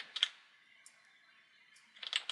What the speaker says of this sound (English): I'll just start using keyboard shortcuts here just to make this move along a little bit more quickly.